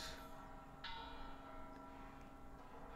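Many church bells ring together at a Mexican Independence Day celebration (the 212th anniversary grito), heard faint and distant as a continuous metallic clangor over a steady crowd murmur.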